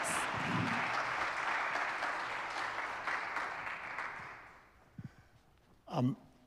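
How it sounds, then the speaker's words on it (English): Panel audience claps for the speakers, a dense steady applause that fades out over several seconds, followed by a few isolated sounds near the end. "give a round of applause to our panelists here and to the audience"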